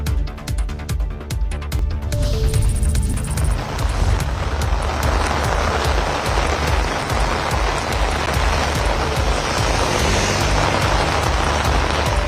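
Heavy monsoon rain pours down in Rameswaram, a dense, steady roar of water that swells after the first two seconds and continues unbroken and loud throughout.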